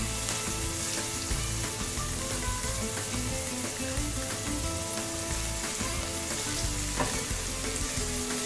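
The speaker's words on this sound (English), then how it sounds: "You can hear the sizzle and it smells delicious already." Onions and garlic sizzle steadily in a hot pan, a constant crackling hiss with occasional pops, close and fairly loud.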